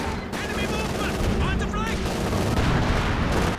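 Company of Heroes 2 battle din as a Raketenwerfer anti-tank gun fires on a Valentine tank, with sharp gunshots and booms in a continuous loud barrage, layered over other battlefield noise.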